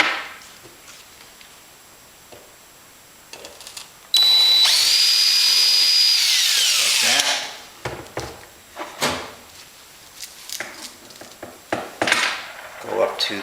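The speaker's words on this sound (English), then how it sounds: "now I can final drill" A power drill final-drills a hole through an RV-7 wing tank Z bracket, a loud steady whine with a falling pitch lasting about three seconds, framed by clicks and handling noise of the cleco work before and after.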